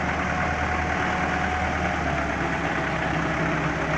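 An old tractor engine idles steadily before potato digging with a tractor-mounted potato digger, a constant low mechanical drone with a faint knocking pulse throughout, close and continuous.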